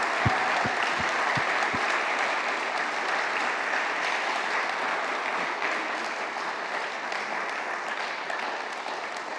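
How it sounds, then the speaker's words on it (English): A church audience applauds for a guest, a dense, steady wash of clapping from many hands filling the room, with a few sharp thumps at the start and the ovation holding strong throughout. "let's give him a round of applause right now"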